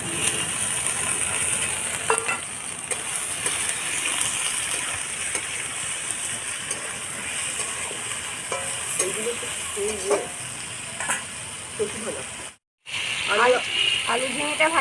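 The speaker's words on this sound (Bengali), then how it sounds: "ঝিঙে পাতা কেটে রাখা ঝিঙেটা দিয়ে দেবো" Sliced ridge gourd hits hot oil in a pan for a light potato and ridge gourd curry, setting off a steady, close sizzle with stirring scrapes that briefly cuts out near the end.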